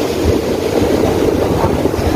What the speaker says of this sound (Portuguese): A água tá vindo aqui já nas pedras, gente.